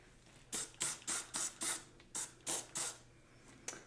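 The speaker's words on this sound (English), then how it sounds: "I'm going to spray that area as well." Cleaner sprayed onto stained areas of a Louis Vuitton bag, about eight quick bursts of close, hissing mist in an uneven rhythm, with a softer final puff.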